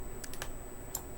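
A few quick, faint clicks of Ctrl+Shift and arrow keys being pressed on a computer keyboard while working in an Excel spreadsheet, spaced key taps close to the microphone.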